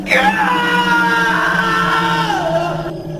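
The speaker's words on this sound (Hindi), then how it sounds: "उन्हें बुल्ली के चिल्लाने की आवाज सुनाई दी" An animated character lets out a long, loud, wavering scream that rises at the start and trails off near the end, in a Hindi cartoon story about a witch.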